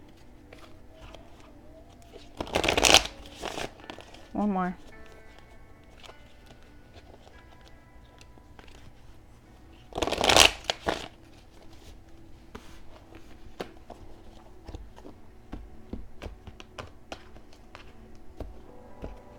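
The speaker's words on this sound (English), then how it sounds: "Let me shuffle again." A tarot deck is shuffled in two crisp riffle bursts several seconds apart, with soft card handling and taps between them and a brief spoken line.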